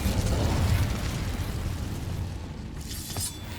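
The Incendio fire spell in Hogwarts Legacy erupts as a loud, roaring burst that fades over a few seconds, with a brief crackling flare near the end.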